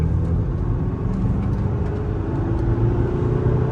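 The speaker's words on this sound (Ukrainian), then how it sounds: "Ось така динаміка автомобіля." A Mazda CX-5 engine hums steadily and builds as the car accelerates, a low continuous rumble heard from inside.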